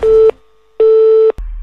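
Phone busy tone after a call is hung up: two clear, loud steady beeps separated by a short silence, then a click and low hum, with no voices.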